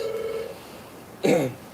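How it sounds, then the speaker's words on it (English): A telephone rings close by, a steady electronic tone followed by a brief louder burst, with faint background hum. "Phone's ringing."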